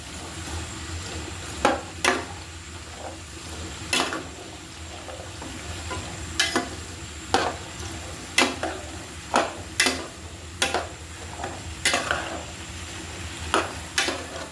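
Onion flowers and prawns fry in oil under a continuous sizzle, while a spatula strikes and scrapes the pan in a fairly regular series of sharp, close knocks.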